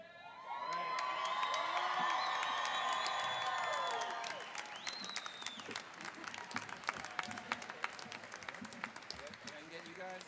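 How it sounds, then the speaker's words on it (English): A college convocation audience erupts in loud cheering, whoops and applause for about four seconds, then the roar fades to scattered clapping and crowd murmur with voices talking over it. "All right, you guys ready to cheer?"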